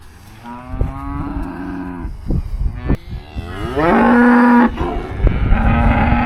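An injured cow lowing repeatedly in a pasture, several drawn-out moos close by, one long loud call in the middle, with faint rustling and thumps between the calls.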